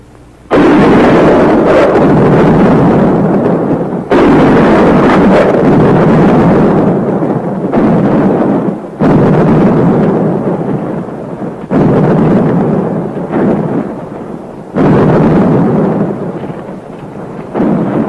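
Nine-pounder guns fire in a 1951 film battle, a series of heavy booming blasts every few seconds, each rumbling loud and long before the next shot, with no voices.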